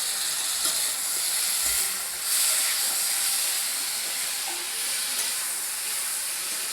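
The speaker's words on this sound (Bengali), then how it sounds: "সবজিটা ভাজা না করলে ভালো লাগবে না" Steady, loud sizzling hiss of vegetables frying with turmeric powder in a pan, continuous throughout with small swells and no talking.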